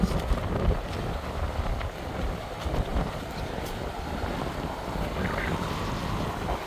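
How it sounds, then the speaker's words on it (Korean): Very strong wind roars outdoors on a snowy day, a loud continuous rushing blast with gusty swells buffeting close to the microphone, no clear voices over it. "지금까지 제가 맞아본 바람 중에서 가장 센 바람"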